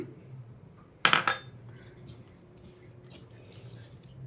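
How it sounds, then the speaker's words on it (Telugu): A brief clatter of a utensil knocking against a bowl while wheat flour cupcake batter is mixed with milk, one sharp burst of clinks followed by quiet. "ఈ విధంగా కొద్దిగా పాలను వేసుకుంటూ కలిపేసుకోవాలండి."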